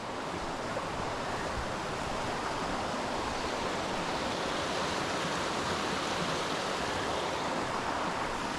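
A brook rushes steadily through the White Mountains forest of New Hampshire, its broadband water hiss close, continuous and unbroken throughout, with no voices.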